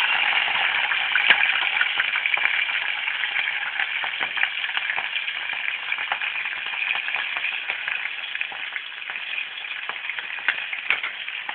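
Broken dried red chilies frying in hot oil in a pan, giving a steady, dense crackling sizzle that continues loudly and evenly on its own.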